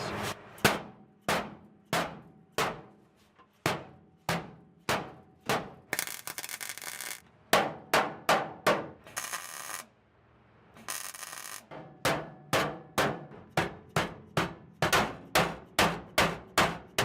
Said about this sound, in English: I'll probably just whack it with the hammer here